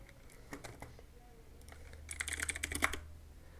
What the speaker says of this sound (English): type Windows Update Settings